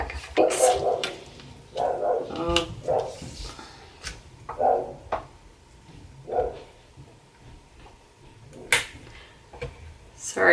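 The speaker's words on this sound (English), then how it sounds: "Sorry about that if you heard my dog barking." A house dog barks at passersby, sharp repeated barks coming in uneven bursts near the microphone, mixed with some talking.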